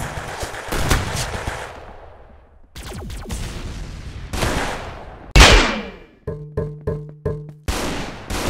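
Gunfire in the Roblox game Arsenal: loud, close synthetic shots and echoing blasts, ending in a quick rhythmic burst of rapid-fire shots, with no talking.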